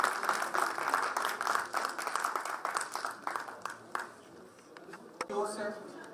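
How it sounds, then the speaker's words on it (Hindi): Loud crowd applause greets a performing team arriving for a stage presentation, a dense crackling wash of clapping that thins out toward the end. "जोरदार तालियों के साथ उनका स्वागत करें।"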